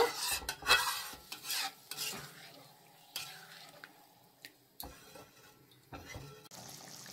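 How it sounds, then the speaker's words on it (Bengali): Yogurt curry for rohu fish being stirred in a pot as it simmers, with intermittent scraping strokes and soft bubbling sizzle, moderately quiet and without talk. "দিয়ে ভালো করে মিক্স করে নিচ্ছি। দুই থেকে 3 মিনিট এটাও ফুটাই নেব আমি ভালো করে"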